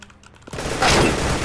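A burst of gunfire in Roblox Counter Strike, a quick cluster of loud cracking shots that blends into a sustained noisy roar after a quieter opening.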